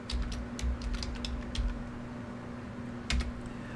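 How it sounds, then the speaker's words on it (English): Someone types on a computer keyboard in a rapid run of close, crisp keystrokes that pause briefly and then resume, over a steady low electrical hum. No one speaks. "I'm typing it in right now."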